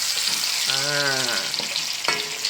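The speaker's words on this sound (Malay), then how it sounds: "Kita goreng dulu udang kita." Freshwater giant prawns sizzle and crackle in hot oil, a steady fry with a brief tonal squeak mid-way and occasional pops.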